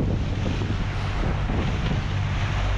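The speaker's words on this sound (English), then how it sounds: "The wind is still busy changing direction" Steady, loud wind roars across a Leopard 45 sailing catamaran at sea on the Black Sea, a continuous broadband rush with no voices.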